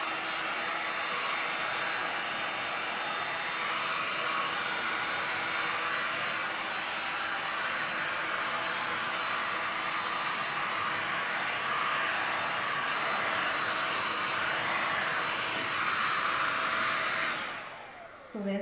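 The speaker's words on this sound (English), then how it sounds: "now I'm gonna use the heat gun again to dry the flowers" A heat gun blows steadily for about seventeen seconds, drying painted flowers on a side table, a loud continuous airy roar that cuts off abruptly near the end.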